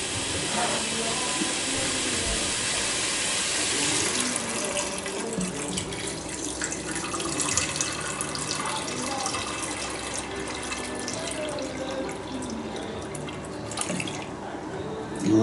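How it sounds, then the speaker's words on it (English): Filtered water runs steadily from a tap into a jug in a home kitchen while cooking a beef stew, a soft continuous hiss and splash with faint clatter and no talk. "So now I'm going to put some filtered water."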